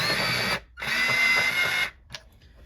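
Ivory-colored pencil being sharpened in an electric sharpener, two loud whirring grinding bursts close up, the second longer, then a short faint tap.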